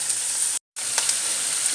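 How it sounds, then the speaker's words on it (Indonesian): Vegetables, green beans and leaves frying in a pan for an Indonesian tauco curry with egg, tofu, tempeh and petai, a steady loud sizzle with brief stirring scrapes and a short gap of silence. "Kita tumis kembali sampai layu."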